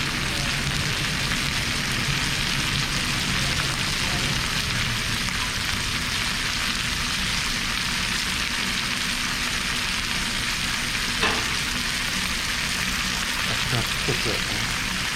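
Cauliflower pan-broiled with garlic, Italian seasoning and crushed red pepper sizzles steadily in a hot pan, a continuous loud frying hiss with faint stirring clinks near the end.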